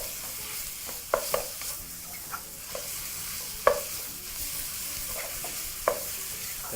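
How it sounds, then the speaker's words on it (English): Lean beef mince sizzles steadily in a hot pan while a wooden spoon breaks it apart, making sharp scattered knocks and scrapes over the constant frying hiss; no talking. "using your wooden spoon, begin to break that big chunk of meat with your wooden spoon"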